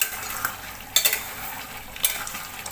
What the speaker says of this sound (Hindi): मैं 5 मिनट से इसको भून रही हूँ